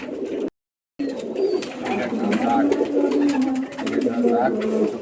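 Pigeons being offered for sale coo repeatedly at close range, their low rolling calls layered over each other, with a brief gap of silence early on.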